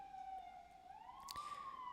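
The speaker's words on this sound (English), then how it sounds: "Another siren." A single siren passing outside, a faint, distant wailing tone that holds steady then rises in pitch, heard alone over a quiet background.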